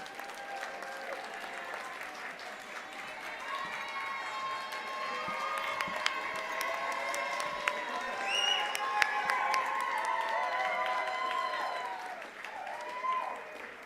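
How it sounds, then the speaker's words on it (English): A large audience at a graduation and awards ceremony claps steadily and continuously, a dense wash of applause with scattered cheers and murmuring voices mixed in. "Graduates, turn around and applaud your supporters."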